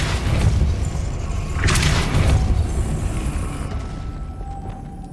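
The Depulso spell is cast in Hogwarts Legacy, a loud booming magical blast with a swelling whoosh and crackle that rings out and fades into a lower rumbling tail.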